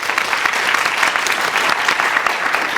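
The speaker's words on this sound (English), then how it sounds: "please join me in giving a huge round of applause to Andy for his expert" An audience at a poetry recitation competition semifinal gives the emcee a loud, sustained round of applause, a thick wash of many clapping hands close by throughout.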